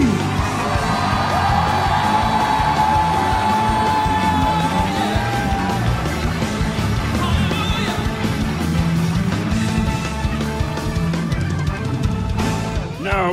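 A large church congregation screams, whoops and cheers at length, a dense, loud crowd roar with individual yells rising and falling throughout.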